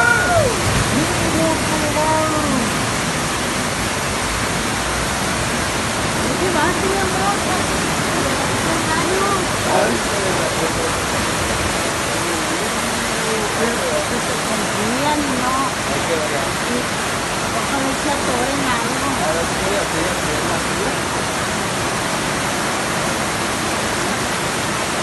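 Floodwater rushing through city streets in Sonora and Sinaloa, Mexico, a loud, continuous roaring wash that runs unbroken throughout, with voices faintly present beneath it.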